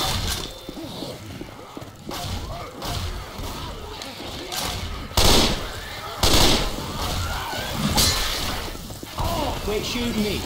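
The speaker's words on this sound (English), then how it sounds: "Quit shooting me." Gunfire and crashes in a Left 4 Dead 2 versus match: scattered shots and impacts, some sharp and loud, others muffled, mixed with people talking throughout.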